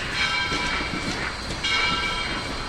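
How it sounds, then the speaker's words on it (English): A steam locomotive moves slowly at a junction in the Tennessee Valley as hostlers bring it over to join a train, giving a steady, loud rumble with faint metallic ringing and clanks throughout. "each steam locomotive was brought over by the morning hostlers to be added to"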